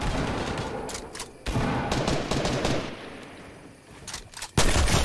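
Rapid bursts of gunfire from Fortnite Battle Royale weapons, loud and close, with dense automatic fire broken by short pauses and a sharp burst near the end.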